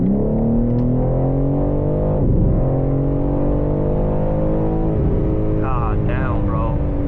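A BMW G80 M3 xDrive Competition pulls hard from inside the cabin, a loud engine drone climbing in pitch, dropping back briefly at two quick gear shifts, then rising again, steady and close.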